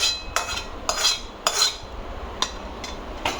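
Several light metallic clinks of a spoon against a dish while serving jackfruit seed curry into a small bowl, spaced irregularly, close and fairly clear with no talking.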